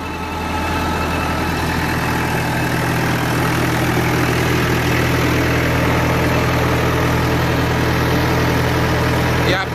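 A diesel tractor engine drives a PTO generator, holding a steady, loud, continuous running drone with a deep, even hum that never changes pitch.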